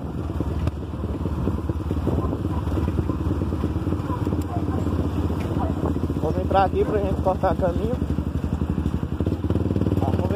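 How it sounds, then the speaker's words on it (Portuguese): Motorcycle with a loud, roaring exhaust running steadily close by under continuous conversation while riding along a road. "O escape tá berrando pra caralho."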